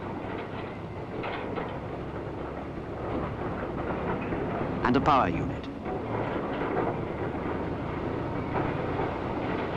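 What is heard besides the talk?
concreting train moving on rails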